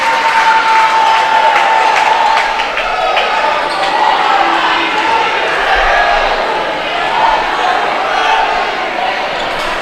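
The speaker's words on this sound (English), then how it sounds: "Tabor crowd getting a little into it, a little restless." A crowd at a women's college volleyball match between Tabor College and Oklahoma Wesleyan cheers and claps in a gym, a continuous loud roar of voices with scattered applause and thuds.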